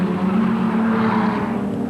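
Production race cars in a 1988 Australian Production Car Series round at Amaroo Park roar past. A steady, loud engine drone holds with a slight swell and no talking.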